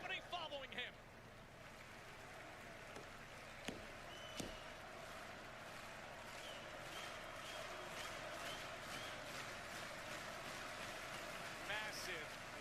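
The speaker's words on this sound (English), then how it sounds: "Massive, loud crowd that's been roaring for moments like this here in Bologna" A large, loud crowd at a Bologna wrestling event, a steady broad roar that holds throughout with scattered sharper shouts rising over it and a commentator's voice faintly audible underneath.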